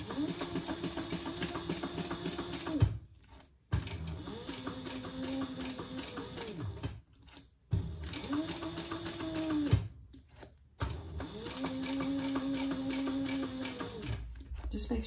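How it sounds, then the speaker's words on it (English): Sewing machine top stitching a wallet: steady mechanical whirring runs in several multi-second stretches separated by brief pauses, with a person talking over the machine throughout. "then we're gonna top stitch and"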